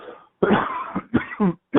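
Several harsh, raspy coughs in quick bursts, close to the listener, separated by short gaps of silence.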